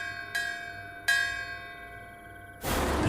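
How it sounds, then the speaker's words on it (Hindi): Distant temple bells sounded as an animation sound effect, struck twice in quick succession, each clear metallic ring hanging and fading slowly before a burst of hiss cuts in at the end. "लेकिन तभी दूर से मंदिर की घंटियां बजने लगी।"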